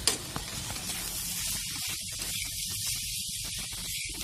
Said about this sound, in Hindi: और इसको 5-10 मिनट तक भूनेंगे, तो कच्चापन चला जाएगा